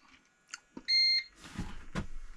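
A computer's UPS battery backup beeps during a power outage with a generator running: one sustained electronic tone between short chirps and clicks, close and fairly loud, with some handling noise.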